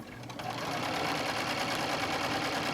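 A sewing machine runs steadily at medium speed while quilting with a ruler, a close, continuous mechanical stitching whir that starts up and holds even, with no talking.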